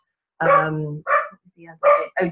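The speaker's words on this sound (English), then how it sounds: "sorry about my dog barking" A dog barks indoors nearby, about four short, sharp barks in quick succession, loud and clear against an otherwise quiet room.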